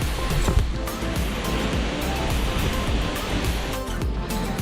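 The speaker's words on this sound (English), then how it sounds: "But you can see the waterfall behind." Waterfall rushing steadily nearby on a tiring hike, a dense, continuous roar of falling water filling the scene from start to finish with no talking.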